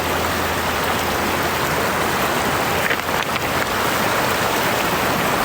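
A snow-fed stream of cold water rushes over boulders, a loud, steady wash of water that fills the whole stretch close by.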